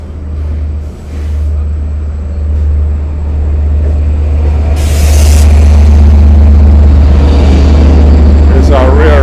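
A Long Island Rail Road passenger train rolls past the Westhampton platform with a loud, steady low rumble that builds as the rear locomotive approaches, a brief squeal near the end.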